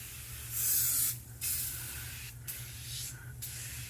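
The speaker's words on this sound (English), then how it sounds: "So let us spray this on." Tire shine foam sprayed onto a dirty car tire, coming in two longer bursts and two shorter ones: a close, loud hiss over a steady low hum, with no talk.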